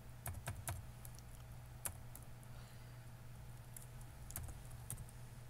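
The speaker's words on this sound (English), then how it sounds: "I'll type minus" Clicks of a computer keyboard being typed on, with short bursts of keystrokes in uneven rhythm over a steady low room hum, close and fairly quiet, no voices.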